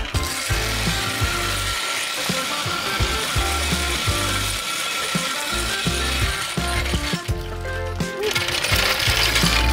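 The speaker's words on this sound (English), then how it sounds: "I know you guys love hearing the jack over some concrete." A car jack on an AU Falcon rolls and ratchets over concrete, giving loud, close, repeated metallic clicking and rumbling in a steady mechanical rhythm.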